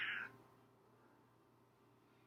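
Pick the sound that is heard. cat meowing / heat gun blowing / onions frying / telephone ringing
cat meowing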